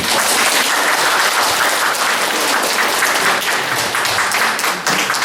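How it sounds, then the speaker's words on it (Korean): A large congregation in a Catholic church breaks into loud, dense applause to welcome a lecturer, a continuous wash of clapping filling the hall throughout. "큰 박수로 맞이해 주십시오"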